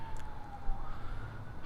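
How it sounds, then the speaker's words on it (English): A distant siren wails faintly with a steady high tone over low traffic rumble, no voices present. "as sirens go off in the background"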